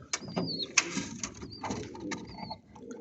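Pet pigeons in a loft make soft coos and brief whistly calls at close range, mixed with light fluttering and scraping sounds throughout.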